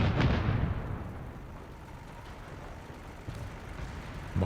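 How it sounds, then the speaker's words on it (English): A howitzer shell lands in a Company of Heroes 3 match with a heavy boom at the start, then a long rumbling decay, a softer thud near 3.3 seconds and another blast just beginning at the very end. "Drop some base howitzers back there."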